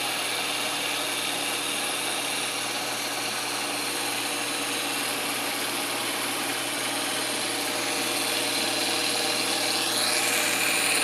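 A rotary milling tool, used for machining work such as cylinder heads, gives off a loud, continuous broadband grinding rush that stays even and dense throughout.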